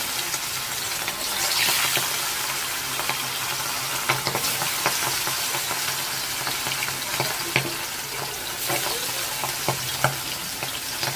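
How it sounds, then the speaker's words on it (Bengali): Hilsa fish pieces frying in hot oil, a close, continuous sizzle with scattered sharp crackles and pops through the whole stretch, with no voices. "তেলটা গরম হয়ে গেছে, এর মধ্যে আমি মাছগুলো দিয়ে দেবো।"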